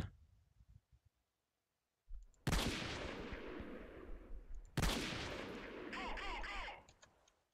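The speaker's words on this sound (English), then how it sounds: "Yeah, they're shooting at me." Gunfire in a Half-Life themed first-person shooter game: two loud bursts of rapid, dense automatic fire, after a few faint clicks and a short silence.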